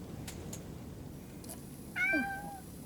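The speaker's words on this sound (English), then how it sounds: "the cat's going to come up now" A house cat gives a single short, fairly clear meow close by, rising and then falling, in a quiet indoor room with a low hum in the background.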